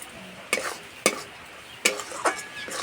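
Green tomato paste with a little sugar bubbles quietly in a pan as a spoon strikes and scrapes through it in four or five distinct, close stirring knocks over a low simmer.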